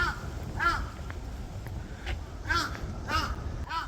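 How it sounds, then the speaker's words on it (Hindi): Several loud crow caws by a windy riverside in Japan, coming in repeated bursts of two or three harsh calls over steady wind noise. "कितनी तेज कर रहा है कौवा"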